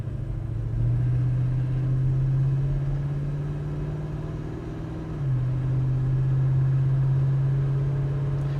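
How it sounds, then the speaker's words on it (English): A 1977 Dodge D100 pickup truck drives along. Its engine hums steadily, then the pitch drops at a gear shift and climbs again as the truck picks up speed, heard from inside the cab with no talking. "we'll run it through a couple gears here"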